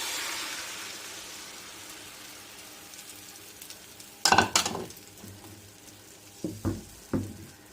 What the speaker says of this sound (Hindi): ये मैंने हल्की आंच कर दी है बिल्कुल। ये देखें, तो ये अब इस पे आराम से पकेगी आमलेट।